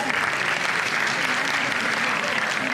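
Audience applause at a school stage show after a children's flower dance, steady dense clapping throughout, loud and continuous with no break.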